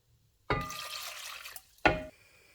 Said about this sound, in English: I'm putting 2 cups of water.